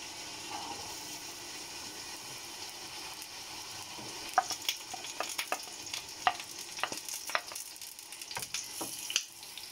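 Onions added to hot oil in a pan for a home-style masala fish dish, with a steady sizzle and frying hiss and several sharp clicks and scrapes of stirring.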